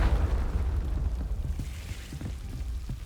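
A Confringo blasting spell exploding in the Hogwarts Legacy video game: a deep, booming burst at the start that rolls off into a lingering rumble with faint crackling debris.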